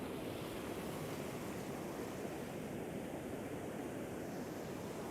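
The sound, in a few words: sea waves on the coast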